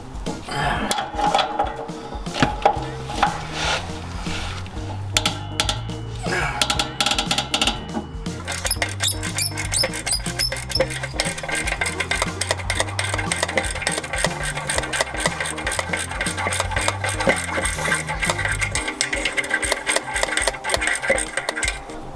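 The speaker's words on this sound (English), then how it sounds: "we're going to have to go ahead and break loose these bolts on the exhaust manifolds" A rapid mechanical chatter, likely a power tool, breaks loose the exhaust manifold bolts on a car engine: loud, close and running in long continuous bursts, with a short pause partway through.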